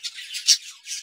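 Small birds near their nest box give a few shrill, high squawks in quick succession, close and fairly loud, with no talking.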